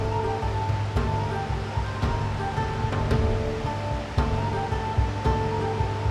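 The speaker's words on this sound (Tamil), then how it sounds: "இப்போ நம்ம வந்து அருவி கொட்டுற இடத்துக்கு நேராக இறங்கிட்டு இருக்கோம்" Aagaya Gangai falls in the Kolli Hills pours onto rocks in a loud, continuous roar of crashing water, with a faint tonal hum and occasional knocks in the background and no speech.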